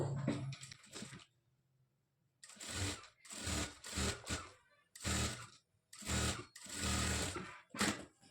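A sewing machine stitching a blouse cross belt, running in several short bursts of rapid mechanical whirring separated by brief pauses, close and steady.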